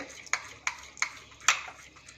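Cream skimmed from milk being whisked in a bowl, with four light, evenly spaced utensil taps against the vessel, close and fairly quiet, with no talking.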